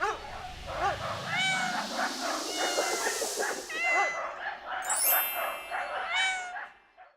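Several kittens meow repeatedly in high, wavering cries, overlapping and fairly close, a continuous chorus of small cat calls at an animal shelter.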